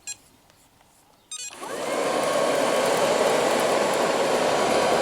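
An Ilife V3s Pro robotic vacuum cleaner starts up and runs with a steady, loud whirring hum, close by and alone after a faint beep.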